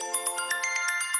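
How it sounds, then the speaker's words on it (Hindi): Phone ringtone chiming in a quick repeating pattern of bright electronic tones, faint and brief, with no talk over it. "जूही जी का फोन।"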